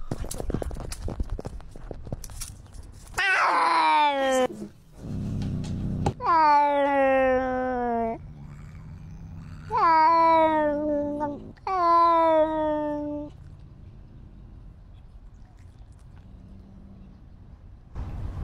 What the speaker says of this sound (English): Look at this clip over here where the other cat was chasing Max